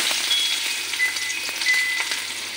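Chopped onion frying in hot oil in a kadai, a steady close crackling sizzle with sharp spits and pops scattered through, loud and alone with no voices.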